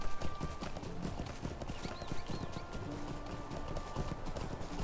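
Horse hooves gallop in a steady rapid clip-clop throughout, a mount ridden across terrain in the online role-playing game Lord of the Rings Online, with ambient game background and occasional faint chime-like tones.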